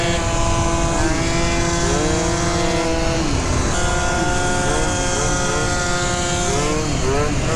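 A Yamaha Zuma scooter engine revs hard while being ridden, its pitch rising and falling through repeated throttle swells, loud and close with constant wind rush, and a brief voice over it.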